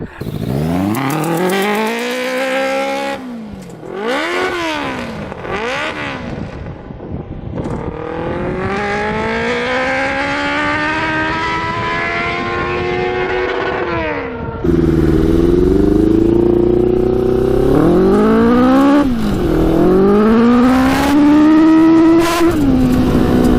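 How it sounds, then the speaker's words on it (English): A 100HP Yamaha Banshee quad's engine revs hard and loud, pitch rising and falling repeatedly as the back wheel spins out, with a louder, rougher stretch in the second half. "Just spinning out the back wheel."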